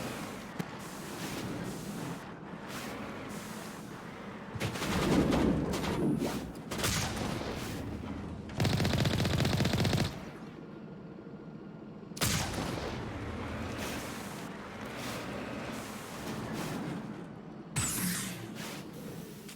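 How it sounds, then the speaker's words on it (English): Cannon fire from the Mako combat vehicle at hostiles in Mass Effect, with repeated heavy booming shots and sustained rumbling blasts, some long roaring bursts, spread across a noisy battle scene. "I can just shoot them with the Mako."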